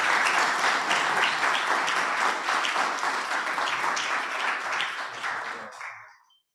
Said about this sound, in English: please give Doc a wonderful round of applause